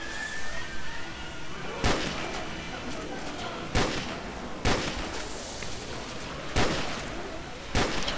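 In a zombie shooter video game, gunshots crack out about six times at irregular intervals, loud and close, over a continuous background of game noise and voices.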